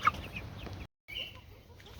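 Cornish cross meat chickens clucking nearby, soft short clucks with a brief silent gap partway through.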